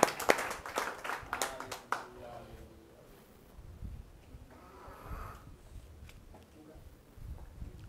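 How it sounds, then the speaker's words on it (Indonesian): A church congregation claps and cheers for the Lord in a burst of sharp, quick clapping that fades into scattered murmuring and breathing, with voices mixed in. "Berikan sorak-sorai buat Tuhan"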